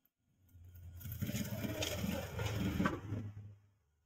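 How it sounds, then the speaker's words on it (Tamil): A sewing machine stitching a chudithar pant runs steadily for about three seconds, a close mechanical whir with a soft rhythmic clatter that starts and stops cleanly. "அதனால அப்படியே வச்சு தையல் போடுறேன்."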